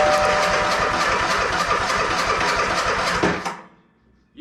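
A riding mower engine cranks with a rapid, rhythmic chugging from the starter for about three seconds, loud and close, then cuts off into near silence without catching.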